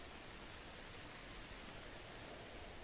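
Steady, soft rain hiss fills a colony-building scene in Songs of Syx, an even wash of noise with no distinct drops or other sounds.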